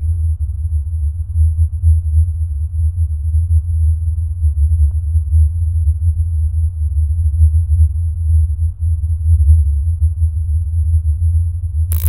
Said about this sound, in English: listen to this peculiar humming